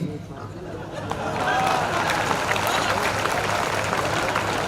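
An audience claps at a kavi sammelan (Hindi poetry gathering), a soft patter that swells into broad, sustained applause from a full hall, with some crowd murmur.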